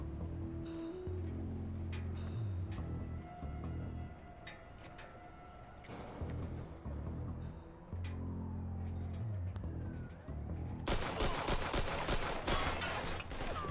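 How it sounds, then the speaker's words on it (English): Gunfire in a Mafia 2 firefight, scattered sharp gunshots and bursts over a low rumbling engine-like drone, ending in a dense, loud stretch of rapid continuous shooting. "I think this is a firefight now. Alright, guess we break out the guns."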